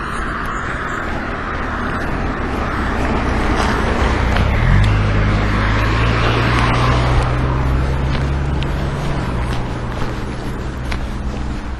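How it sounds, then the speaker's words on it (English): Traffic on a busy road heard from the roadside, with a steady roar of passing cars and a louder vehicle sweeping by in the middle, all under heavy wind noise with no talk. "About 10 cars per minute."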